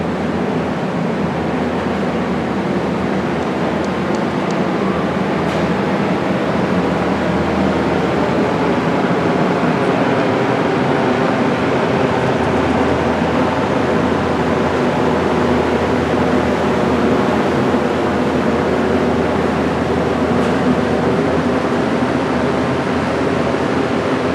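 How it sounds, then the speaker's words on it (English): Steady, loud broadband roar of large cooling fans running continuously indoors, a dense unchanging rush with no pauses. "there is some big fans in here keeping everything nice and cool"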